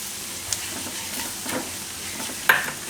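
Flour (maida) stirred into garlic in a pan, a soft scraping and light sizzle running steadily throughout, with a few brief sharper clinks of the spoon against the pan, close and fairly quiet.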